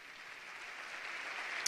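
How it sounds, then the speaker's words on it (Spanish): Applause from an audience welcoming a youth choir of about 60 boys and girls, the Escolanía del Orfeón, at a Caja Rural Seguros RGA presentation; a faint, steady patter of many hands clapping throughout, with a slight swell at the end. "Así que un fuerte aplauso para ellos."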